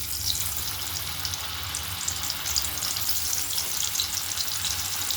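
Cornflour pieces fry in hot oil over a low flame, making a dense, continuous crackling sizzle that stays close and loud without a break.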